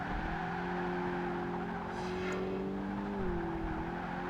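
Race car engine in Project Gotham Racing 2 holding a steady, loud drone at full throttle through a corner, with a slight pitch rise near the end and a brief high tire squeal partway through; no talking.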